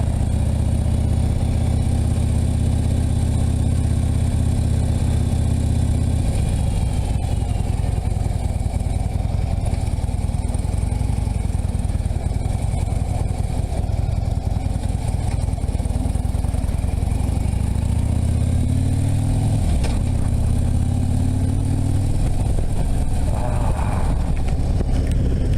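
A motorcycle engine drones steadily on the ride home from work, a loud continuous low rumble with shifting pitch and wind noise throughout.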